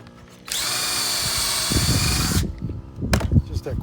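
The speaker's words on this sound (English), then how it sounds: "Drill your holes." A power drill whines steadily for about two seconds while boring holes during an above-ground garden bed build, then stops, with some clatter and handling noise afterward.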